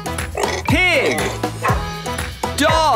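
Several yipping dog barks with sliding pitch ring out loud and close, set within a bouncy children's farm song over music.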